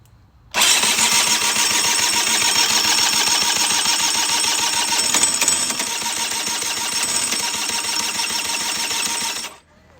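A Honda Aero50 scooter, a barn find sprayed with starter fluid, starts abruptly and buzzes at a high steady idle for about nine seconds before shutting off, loud and close with no talking.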